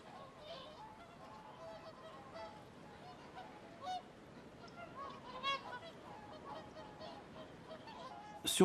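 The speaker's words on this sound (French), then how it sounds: "Sur les rives du Loch Lomond en Écosse, on peut admirer des oiseaux qui comptent parmi les plus majestueux de notre ère. Des cygnes chanteurs." Whooper swans calling on the shores of Loch Lomond, Scotland, a faint, distant chorus of repeated honking and trumpeting notes scattered over steady outdoor background noise.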